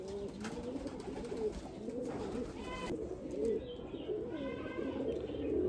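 Tournament racing pigeons coo softly in a domestic loft, with low murmuring calls and a few brief chirps against a quiet background.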